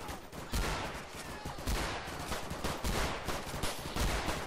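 A cops versus robbers firefight in Garry's Mod, heavy bursts of automatic gunfire with sharp individual shots punctuating a steady barrage, loud and close.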